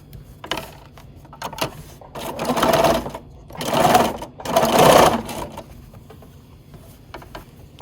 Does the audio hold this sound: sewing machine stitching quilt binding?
yes